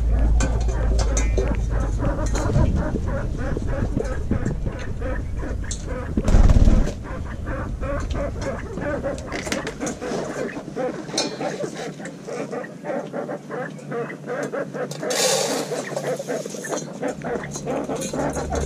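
Hungry, agitated quail call in dense rapid chirps while being fed, a busy near chorus with a louder burst partway through and occasional speech.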